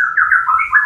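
A wild white-rumped shama gives a short, clear, loud whistled call of a few rising and falling notes, close and alone.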